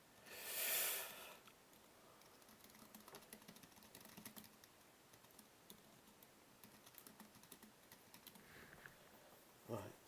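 Typing on a computer keyboard during a live trading session comes through as a faint, steady run of soft key clicks. A louder breathy burst comes at the start and a brief knock near the end.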